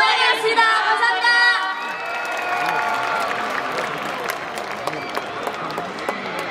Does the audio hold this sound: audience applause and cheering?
yes